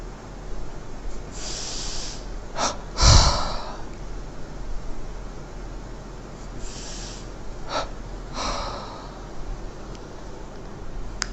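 Double inhalation and exhalation during an energisation breathing exercise: a few sharp, close breaths and sniffs, one strong burst near the start, then softer exhales over a faint hiss.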